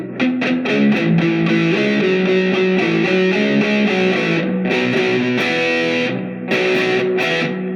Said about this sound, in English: You're just going to play it with your distortion, no palm muting at all.